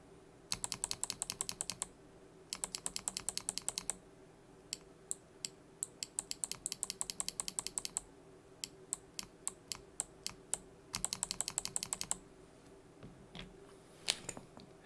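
Typing on a mechanical keyboard with PBT dye-sublimated keycaps, including a box Noble Yellow switch: close, crisp bursts of rapid keystrokes separated by brief pauses and single isolated clicks, with nobody talking.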